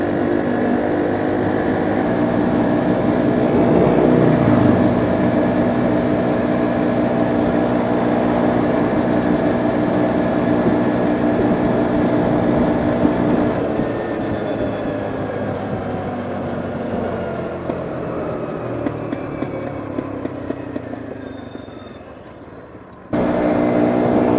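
A Sym Trackrunner 200 motorcycle engine drones steadily while riding, with a continuous loud hum and wind rush that slowly falls in pitch, then cuts briefly before resuming.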